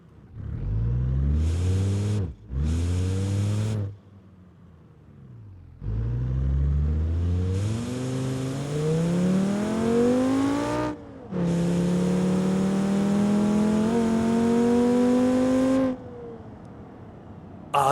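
ETK I5 car engine in BeamNG.Drive with a 5-speed gearbox, revving hard through rising pitch sweeps with brief gear-change gaps between loud accelerating pulls, no talk.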